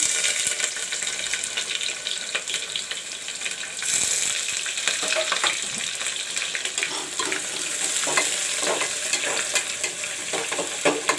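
Chopped onion hits hot oil with bay leaves for a mixed chana dal, pumpkin, potato and soybean curry, giving a steady close sizzle with scattered stirring scrapes and clinks throughout.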